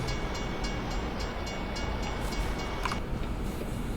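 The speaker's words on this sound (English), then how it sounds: "We've got a train coming." A freight train rolling past a truck waiting at a crossing in American Truck Simulator, heard as a steady, fairly loud broadband rumble with faint rhythmic clatter throughout, no voices.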